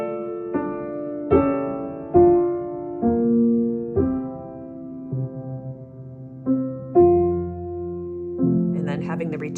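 A piano plays Schumann's Träumerei with the loudest point placed on the first beat, sustained chords and melody notes rising and falling in phrases, clear and up close.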